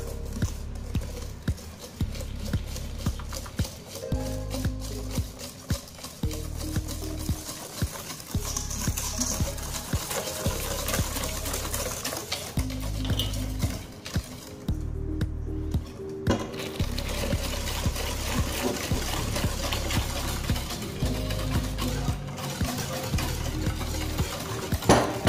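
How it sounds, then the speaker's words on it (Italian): Hot milk is stirred into whipped egg yolks and sugar for pastry cream, a rhythmic tapping and scraping of a whisk against the bowl repeating steadily, close and fairly quiet. "Ne versiamo una parte e iniziamo a stemperare il composto."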